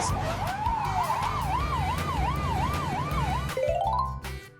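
A police patrol car siren wails in a steady rising-and-falling pattern, loud and close, then switches to a quicker yelp before cutting off.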